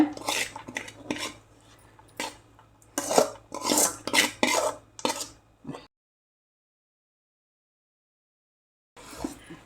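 Sautéed seasoning is stirred into homemade idli batter, with a spoon scraping and clinking against the bowl in quick irregular strokes, near and fairly loud, then a few seconds of silence before the stirring resumes briefly.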